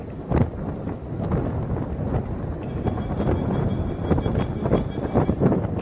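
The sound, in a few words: wind blowing on a bridge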